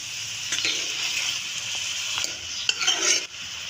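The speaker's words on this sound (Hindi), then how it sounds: "अब हमने इसमें चमची से मिक्स करना है सारे मसाले को।" A spoon stirs spices into ridge gourd curry in a pan, with quiet scraping strokes over a soft, steady sizzle and a few light metallic clinks close by.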